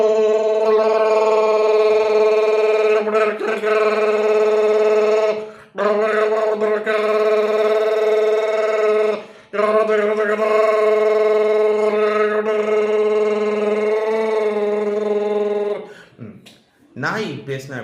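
A voice mimics a train horn, holding a loud, steady harmonic drone for most of the stretch with a few brief breaks, then trailing off into short vocal bursts at the end.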